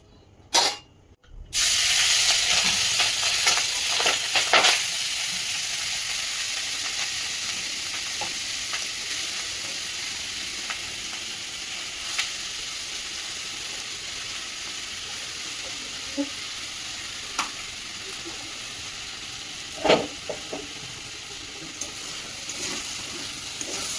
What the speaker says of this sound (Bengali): এরপরে ভাতটা ভাজবো, তারপর সবজিগুলো অ্যাড করবো